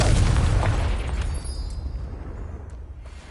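A Confringo spell explosion in the Hogwarts Legacy video game, a loud deep boom at the start that rumbles and fades over a few seconds with a faint high ringing tail.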